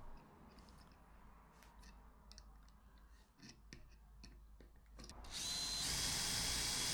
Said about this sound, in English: I'm just countersinking the top so I can put the hooks in the top there